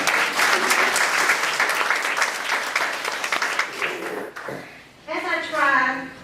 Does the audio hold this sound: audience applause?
yes